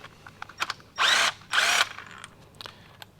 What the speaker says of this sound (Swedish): Och vi börjar helt enkelt med att skruva av sträckaren.